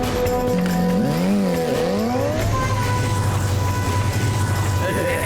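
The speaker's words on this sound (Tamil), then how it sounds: "பைக் ஸ்டார்ட் ஆயிடுச்சு." Steady engine drone with pitch sweeping up and down as it revs, then settling into a continuous hum, with talk over it.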